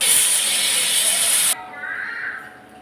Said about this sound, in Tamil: நல்லா குக்கரில் விசில் வரட்டும்.